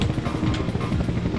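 Aircraft landing in the video game Incoming, a steady low rotor-like engine drone with a pulsing thrum, close and moderately loud, heard alone for a brief moment.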